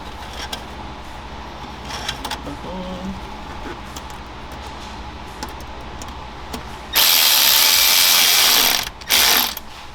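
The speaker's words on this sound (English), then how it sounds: "tighten the hose clamp using the same 8mm socket" An 8mm socket drives the hose clamp on a silicone intake coupler at the turbo inlet of a Toyota 4Runner or Tacoma, with light ratchet clicks first and then a loud buzzing power-tool burst of about two seconds and a short second burst.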